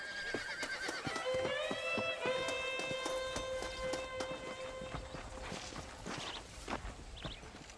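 Horse hoofbeats in the video game Red Dead Redemption, a steady clip-clop of a ridden horse close by, with a brief neigh near the start and a game music tone.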